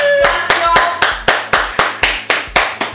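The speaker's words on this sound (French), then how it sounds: "Tu veux seul applaudir là?" Hands clap in a steady rhythm at a birthday party, about ten sharp, close claps roughly every quarter second, with no talk over them.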